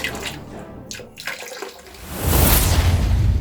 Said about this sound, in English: Go underwater. Lots of water everywhere.